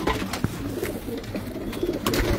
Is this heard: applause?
no